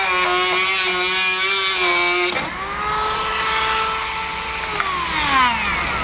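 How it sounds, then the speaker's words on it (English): A Dremel rotary tool trims plastic during a trailer hitch install on a 2016 Toyota, giving a steady high whine that shifts pitch midway as the bit bites in, loud and close with no talk. "I'm going to be using a Dremel tool to get that trimmed off."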